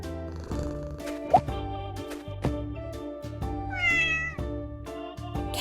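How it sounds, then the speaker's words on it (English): A cat meows once in a kids' animal learning game, a clear mid-length call over steady bright background music. "Cat."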